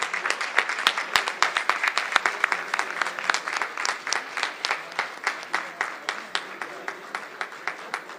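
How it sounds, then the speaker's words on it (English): Audience applause at a Philippine business opportunities seminar in Japan, sending off the Philippine president as he leaves: sustained clapping from a sizeable crowd, dense and steady for the whole stretch, with sharper individual claps standing out near the front. "改めまして、盛大な拍手でお送りください"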